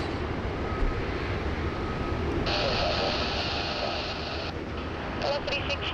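An aircraft departing Sydney Airport as the day's last departure gives a continuous broad engine roar, with a brighter whine rising partway through and some intermittent crackle over the rumble.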